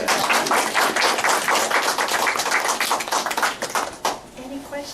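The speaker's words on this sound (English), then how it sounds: "Let's do a round of applause for" Dense, sustained clapping from a crowd at a student exhibition unveiling, steady for several seconds before thinning out near the end.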